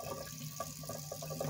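A thin stream of water runs from a tap, a steady soft splashing trickle heard close by and alone with no talk.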